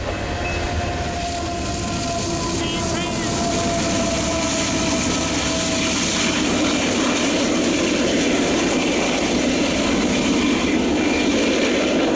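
A Union Pacific mixed freight train rolls past on a snowy, clear day, a steady rumble of wagons that swells louder over time, with a brief high squeal early on.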